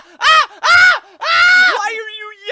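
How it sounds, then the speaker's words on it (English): Loud, strained yelling from an animated monkey, several harsh drawn-out bursts in a row with a wavering cry at the end. "Why are you yelling at me?"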